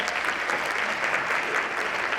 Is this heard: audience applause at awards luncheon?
yes